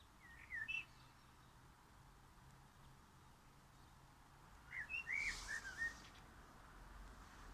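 A small bird sings in two short bursts of thin whistled chirps, the first brief and the second a longer trill, faint and somewhat distant over a low steady background hum.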